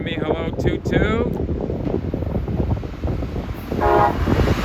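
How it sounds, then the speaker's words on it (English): A short southbound Brightline train on the Florida East Coast line at Sebastian sounds two horn toots, one early and one near the end, over continuous rumbling train and wind noise. "I knew he was going to give me a hello, toot-toot."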